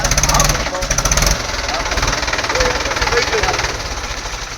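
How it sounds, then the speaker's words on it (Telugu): Sand-hauling tractors from Jonnavada run with a loud, continuous engine rumble and a rapid knocking throb, close by and steady throughout. "ఈరోజు ఈ జొన్నవాడ నుంచి ఇసుక ట్రాక్టర్లు ఈ విధంగా తోలుతూ ఉంటే"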